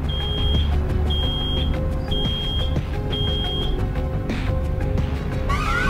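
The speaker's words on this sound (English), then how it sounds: "Oh no, something's beeping." A high electronic alarm beeps in an office in the Road 96 video game, sounding as four sustained tones at a steady rhythm over a loud, constant rumbling background.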